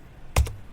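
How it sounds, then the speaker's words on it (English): A single quick double keystroke on a laptop keyboard while typing a command, a short crisp clack pair in an otherwise quiet room. "Now type in cls and hit enter."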